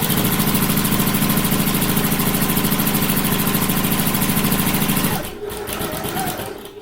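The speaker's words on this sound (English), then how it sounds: "Now we're going to sew along each long edge using a 1/8 of an inch seam allowance" Sewing machine runs a steady, fast stitch along the long edges of a fabric handbag at regular stitch length with a narrow seam allowance, a continuous close whir for about five seconds before stopping, followed by faint handling noise.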